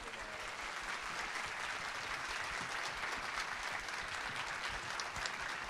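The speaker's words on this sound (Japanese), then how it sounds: "大きな拍手を。" Steady applause from a large audience at a Nagoya Grampus 2016 season launch event, a dense continuous wash of clapping heard at a distance and held evenly throughout without any speech over it.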